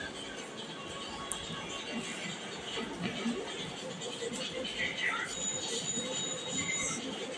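Crowded metro train in motion with wheels squealing on the rails, a steady rumbling ride noise throughout, and some background voices mixed in.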